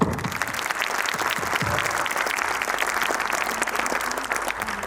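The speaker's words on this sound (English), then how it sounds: "let's once again applaud the great work done by these dedicated individuals" Audience at a preschool performance applauding steadily, a thick, even wash of clapping that holds at one level throughout without speech over it.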